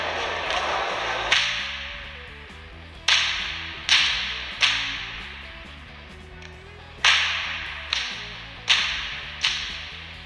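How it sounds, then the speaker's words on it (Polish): A whip is cracked repeatedly at a shooting, militaria and survival fair, sharp loud snaps coming in irregular bursts over a low background hum with no talk. "to jest kunszt, jeżeli chodzi o strzelanie z bata."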